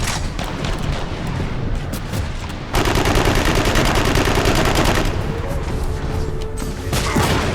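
Rapid gunfire in Warhammer 40,000 Eternal Crusade rattles in dense bursts, with a heavier sustained stretch of automatic fire in the middle and scattered booms, loud and continuous throughout.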